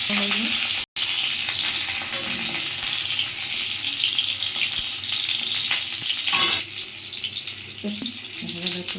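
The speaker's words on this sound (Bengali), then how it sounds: "এখন পটলটা একটু ভাজি করবো।" Pointed gourd (potol) fries in oil in a kadai, a steady close sizzle running through the clip with a brief break near the start and occasional scraping stirs; no one speaks.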